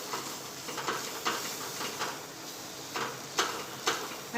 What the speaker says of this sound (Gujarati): તમે વેલણ હોય તો આ રીતે વેલણથી ચલાવી લેવાનું